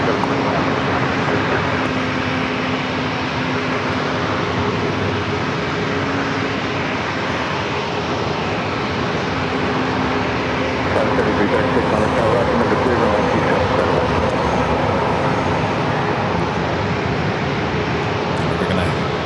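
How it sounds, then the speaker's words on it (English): An ATR turboprop arriving from Tijuana lands at San Diego airport, a steady loud engine and propeller drone holding for the whole stretch with a faint tonal whine, and a voice briefly talking over it. "the ATR coming in from Tijuana, just across the border"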